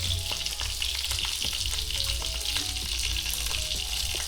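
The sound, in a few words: pancake batter frying in a pan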